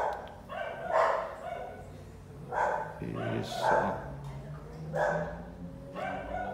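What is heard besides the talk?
dogs barking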